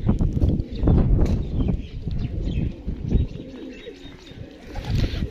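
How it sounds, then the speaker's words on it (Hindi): Several pigeons coo and rumble close by in overlapping throaty calls, with flapping and shuffling sounds in between. "जी माशाल्लाह बढ़िया कबूतर हैं"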